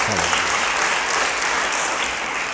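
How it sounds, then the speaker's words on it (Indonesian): Steady, dense applause from a church congregation, loud and continuous throughout with no pauses. "Beri tepuk tangan bagi dia."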